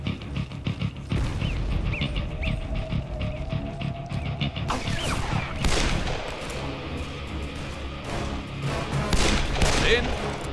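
Gunfire in Call of Juarez: Bound in Blood, an Old West shooter, with scattered loud shots and bursts over background game noise while someone speaks German in between.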